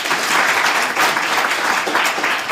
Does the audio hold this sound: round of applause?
yes